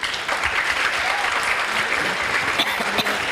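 A conference panel audience bursts into sustained applause, with dense, even clapping from many hands filling the room at steady loudness throughout.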